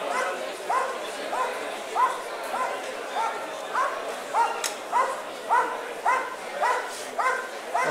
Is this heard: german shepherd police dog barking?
yes